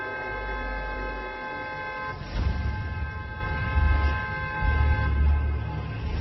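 A car horn sounds in long sustained blasts over a low engine rumble, loud and close, with some further honking in the later part.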